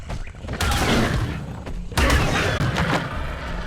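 Gunfire in ARK: Survival Ascended landing a headshot on a raptor: two heavy booming shots with thuds and mechanical clatter, loud and close, with no voices.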